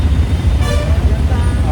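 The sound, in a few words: road traffic noise in a traffic jam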